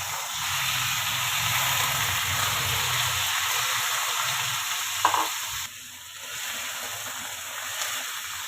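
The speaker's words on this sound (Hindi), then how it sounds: "चिकन को हमने अच्छी तरह फ्राई कर लेना है।" Chicken fries in oil in a pan with a steady, loud sizzle and hiss, broken by a few stirring scrapes and a short dip in intensity near the end; no one talks.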